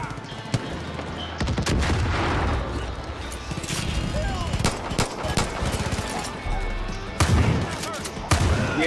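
Shotgun blasts and gunfire ring out in the video game Far Cry 5, several sharp, loud booming shots spaced irregularly across the scene, with a voice talking between them.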